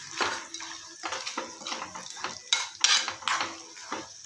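A spoon scrapes and clatters against a pan as spiced puffed rice with garlic, North Karnataka style, is stirred over a low flame, in steady, close, uneven strokes with no talking.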